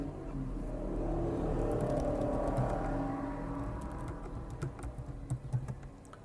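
Keys clack on a computer keyboard as a router command is typed for a Cisco OSPF network check, with scattered light taps over a steady low hum, mostly toward the end.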